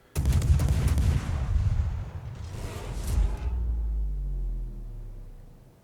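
Warship guns fire high-explosive shells in the World of Warships naval game: a sharp loud boom opens, followed by rumbling blasts and a second volley whooshing out, then a long low decaying rumble.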